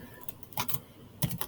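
A handful of quick, light keystrokes on a computer keyboard as a password is typed, sparse taps spread across a quiet moment with no talking.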